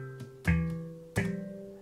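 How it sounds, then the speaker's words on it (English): Two sharp, knock-like percussive hits from recorded real sounds played as a key group on an MPC Live 2, the second ringing briefly with a rattling decay, quiet and isolated. "The first one is a percussive sound which I have called Knuckles."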